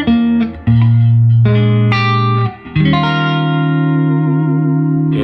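Electric guitar played through a Fender Tone Master Princeton Reverb amp, loud sustained chords and single notes ringing with reverb and echo, several strummed phrases with a brief gap before a long decaying final chord.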